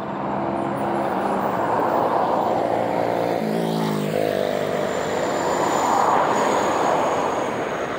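Airplane passing overhead near an airport on Avenida Cuauhnáhuac in Cuernavaca, a loud engine roar that swells and sweeps past around the middle, over steady traffic noise.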